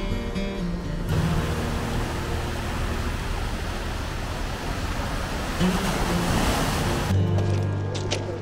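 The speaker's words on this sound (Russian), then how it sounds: "Guarda questa è il mare." Waves of the Ligurian Sea on the Italian coast, a broad continuous roar of surf with wind noise, steady and fairly loud, with no distinct voices over it.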